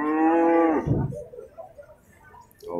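A single loud, close cow moo at a cattle market selling Pegon and Limousin cattle, a long droning call that breaks off, followed by quieter background murmur.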